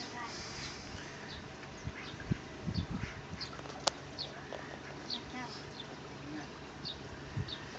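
Birds call and chirp at Lake Kerkini in summer, with scattered short, high chirps spread across the scene over a steady natural background, some lower knocks and rustles nearby.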